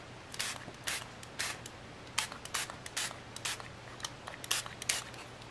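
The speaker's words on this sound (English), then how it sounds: "I like to put it about, I would say, a good 8-inch and spritz" A spray bottle of homemade shimmer spritz mists onto a card from about eight inches away, a run of a dozen or so short, crisp spritzes in a quick, uneven rhythm, close and clear.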